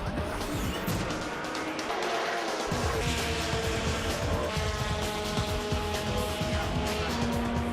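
Honda Civic Type R race cars at a 2007 race meeting, engines roaring loudly and continuously at close range as they circuit the track, with a brief drop in low rumble before the pack surges past again.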